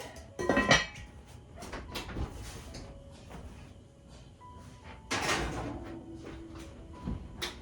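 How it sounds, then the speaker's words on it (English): A heavy lid clanks onto a Dutch oven holding sourdough dough and the pot slides into an oven, producing a few nearby metallic clatters and knocks with the door thudding, and no talking. "lower it in there, put on the lid,"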